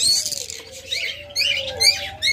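A breeding pair of lovebirds in a cage gives bright, high chirps in short bursts, with a faint steady tone running underneath.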